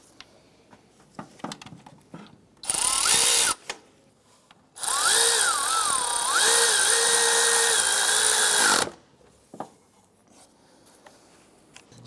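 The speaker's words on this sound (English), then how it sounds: "Go ahead and get that tensioner bolt started. And we'll go ahead and snug that down." A power tool drives down the serpentine belt tensioner bolt on a 2006-2013 Chevrolet Impala in two loud, steady whirring bursts with a rising and falling pitch. A short pause separates the bursts, and faint handling clicks come before and after them.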